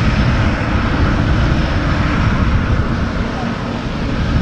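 A jet airliner taxies off the runway at Manchester Airport, a loud, steady engine roar with deep rumble that holds at constant level throughout, near and continuous.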